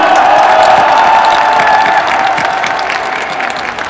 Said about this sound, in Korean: 함성 부탁드립니다